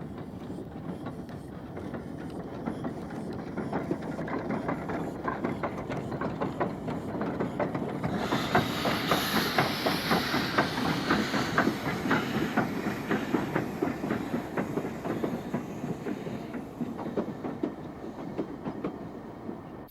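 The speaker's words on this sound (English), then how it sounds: "steam never really died on the narrow gauge, with number 220 and her stablemates covering diesel failures" Narrow gauge steam train running on Indian railways, a steady rumble with rhythmic wheel clatter that grows somewhat louder and hissier midway, heard without talk.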